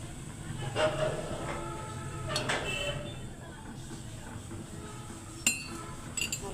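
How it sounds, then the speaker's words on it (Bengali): A gas stove flame turned up high while tea brews gives off a steady, rough roaring rumble, with a few faint clinks of utensils near the end. "চুলাটা বাড়ালে কেমন জানি একটা শব্দ হয়।"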